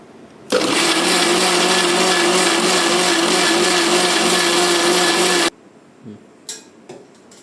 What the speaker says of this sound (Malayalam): അപ്പൊ ഇനി ഇത് നമുക്ക് മിക്സിയിലിട്ട് നല്ലപോലെ അടിച്ചെടുക്കാം